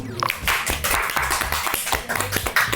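Hand clapping among a few people in a casual Korean office talk setting, a loose burst of sharp claps mixed with voices and laughter.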